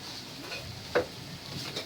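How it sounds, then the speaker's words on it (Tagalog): Pechay Tagalog leaves being stirred in a pan for pancit habhab, soft faint scraping and sizzling with one sharper clink near the middle. "Haluin lang natin para magpantay po yung luto ng ating gulay."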